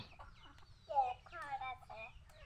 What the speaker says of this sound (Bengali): বাপ রে বাপ, তোমার এত মুরগি কে গো?